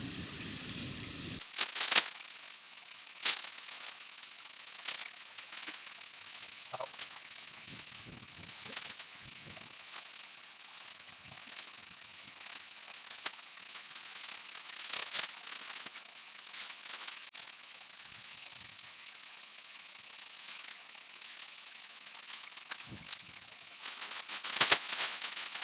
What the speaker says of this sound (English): there's quite a bit of wind coming through there